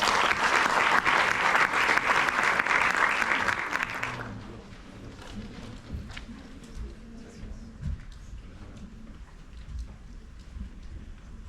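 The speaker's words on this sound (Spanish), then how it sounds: "Aplauso, por favor." Applause from an audience at a hospital paediatrics conference in Oberá, Misiones, loud and sustained for about four seconds, then cutting off to quiet room murmur and shuffling.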